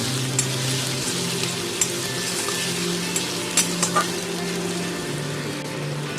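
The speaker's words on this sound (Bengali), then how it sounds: "ভালো করে আমি ভেজে নেব" Bata fish frying in hot oil with a steady, dense sizzle, a few light clicks of utensils scattered through it, close and continuous with no talking.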